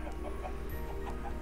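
Minecraft chickens cluck in a short video-game scene, a few soft, evenly spaced clucks over a steady low background hum, with no talking.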